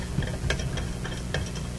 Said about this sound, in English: That's the sound of me loosening one of the two restriction light bulbs.